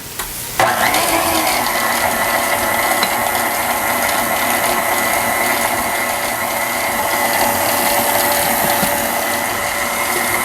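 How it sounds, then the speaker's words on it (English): An electric mixer beats egg whites with lemon zest for angel food cake, a loud steady whirring drone that starts abruptly and runs without pause, close by and with no speech. "I'm going to add this now to my egg whites that I'm beating."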